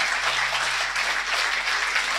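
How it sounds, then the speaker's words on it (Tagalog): A church congregation applauds, with steady, dense clapping from many hands continuing evenly throughout at a moderate distance. "Palakpakan natin ang Panginoong Jesus."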